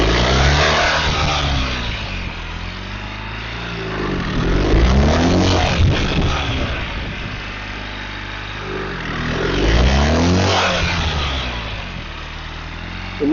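A police motorcycle rides fast, engine revving up in two strong surges and dropping off as the rider brakes hard and rolls off the throttle into turns, with steady wind roar throughout.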